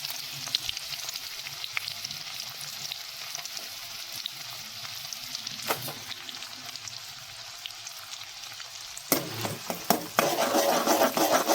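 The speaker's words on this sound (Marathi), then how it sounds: "आपण जिरा टाकतोय मोहरी तडतडल्यानंतर आणि मग कांदे टाकायचे बारीक चिरलेले आणि त्याला लाल होईपर्यंत व्यवस्थित शिजू द्यायचं।" Finely chopped onions frying in hot oil with cumin and mustard seeds for a dhaba-style rajma masala, a steady close sizzle with scattered crackles and a louder burst of stirring and spattering near the end.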